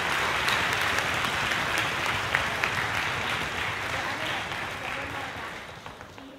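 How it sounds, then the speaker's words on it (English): Audience applause for student performers at a high school spring concert, a dense, steady wash of many hands clapping throughout that tapers slightly toward the end. "Let's give them another big round of applause"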